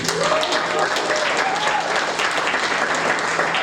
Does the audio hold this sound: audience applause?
yes